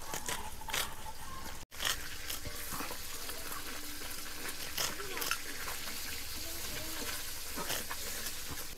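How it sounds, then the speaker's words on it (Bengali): Pointed gourd (potol) shoots finely chopped with a knife while small river fish fry nearby: a run of quick, crisp crunching cuts at an irregular pace over a constant sizzling, watery background. "দেখো এরকম করে কুচু কুচু করে কেটে নেবা এই পটলের আগাগুলো"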